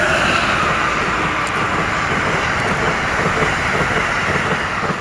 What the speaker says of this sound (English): There's the Amtrak.